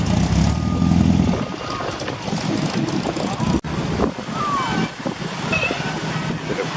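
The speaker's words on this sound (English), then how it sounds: "The big old Dodge truck." An old Dodge truck rolls past at a motoring celebration, its low engine rumble loudest early on and then fading, with wind buffeting and mixed outdoor traffic noise around it.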